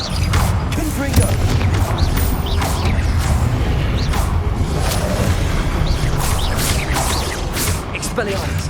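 Confringo explosive fire spells in Hogwarts Legacy combat: repeated booming blasts and whooshes crash over a dense, continuous battle din, with voices shouting throughout.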